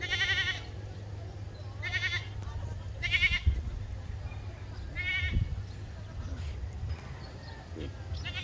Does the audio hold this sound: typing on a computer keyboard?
no